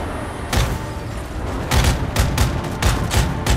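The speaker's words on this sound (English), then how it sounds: "I got this stuff. It's like a machine gun that isn't really useful." Rapid bursts of gunfire from a Call of Duty Modern Warfare 3 multiplayer match, several loud shot clusters crackling over a dense background of game noise and distant explosions.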